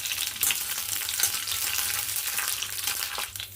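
Green chillies frying in hot oil for a spicy, sour chutney: a loud, steady, close sizzle and crackle that runs continuously without pause, with no voices over it.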